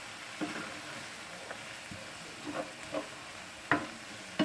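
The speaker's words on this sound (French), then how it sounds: "je vais mettre mes lentilles corail. Je mélange bien." Red lentils get stirred in a cooking pan, with soft, intermittent scrapes and light knocks of a spoon over a faint, quiet background hiss.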